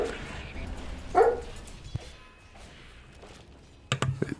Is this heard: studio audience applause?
no